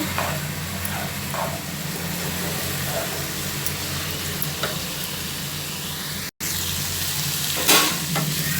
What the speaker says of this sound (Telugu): ఈ ముక్కల్ని మంచిగా మనము ఫ్రై చేయాలి ఈ నూనెలోనే మనం చక్కగా ఫ్రై చేసుకోవాలి